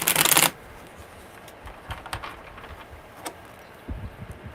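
A tarot deck riffled in one loud, close burst, followed by quieter taps and card handling noises, with no voices.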